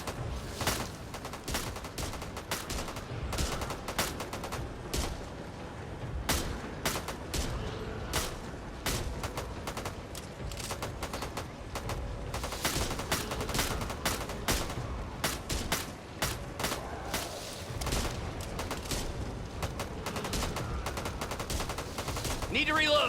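Rapid gunfire in the co-op zombie shooter Back 4 Blood, bursts of automatic shots crackling continuously for over twenty seconds with heavy impacts and chaotic combat noise.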